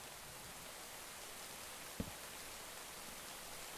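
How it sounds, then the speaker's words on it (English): Rain falls in a video game world as a soft, even hiss of steady downpour, faint and continuous, with a single small tap partway through and no voices. "Oh, and it started to rain."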